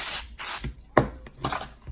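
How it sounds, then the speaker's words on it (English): Alcohol is sprayed from a spray bottle onto a carbon fiber plate for a Tamiya Mini 4WD car, several short, close, hissing squirts in quick succession. "Just gonna spray some alcohol"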